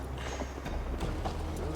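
A horse's hooves clip-clop at a steady riding gait in Assassin's Creed Valhalla, close and rhythmic over soft ambient background.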